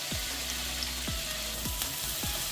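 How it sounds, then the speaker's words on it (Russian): Onion sizzles in oil in a frying pan, a steady close crackle of frying with faint low thumps recurring about every half second, and no one talking. "Обжариваем до слегка золотистого цвета, постоянно помешиваем."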